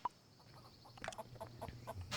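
A white chicken in a farming video game gives a run of short, soft clucks, repeated irregularly at close range over a faint steady background hum.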